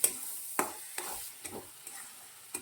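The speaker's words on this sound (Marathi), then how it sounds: "भाजी दोनदा खालीवरी करून घ्यायची आहे" A spoon stirs a chana dal and greens mixture in a hot pan: a few evenly spaced scrapes over a soft sizzle, close and fairly quiet.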